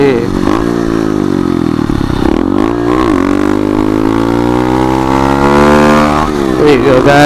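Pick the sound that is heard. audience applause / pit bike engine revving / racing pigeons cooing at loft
pit bike engine revving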